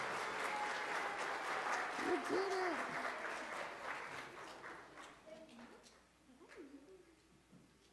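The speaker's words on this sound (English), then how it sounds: "A round of applause." A church congregation at a Sunday Pentecost service gives a round of applause, a broad wash of clapping that tapers off toward the end while voices speak over it.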